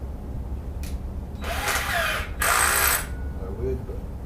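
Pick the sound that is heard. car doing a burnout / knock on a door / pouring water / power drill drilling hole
power drill drilling hole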